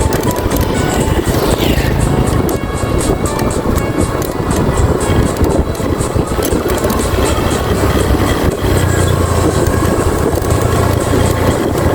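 Motorcycle ridden over a rough, extreme rural road, a constant loud engine roar with rattling and bumping over uneven ground, close and without a break.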